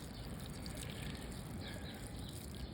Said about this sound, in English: I'm just going to water them in real good.